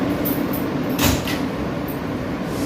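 New York subway train doors slide shut in one brief whooshing close over a steady background rumble in the car.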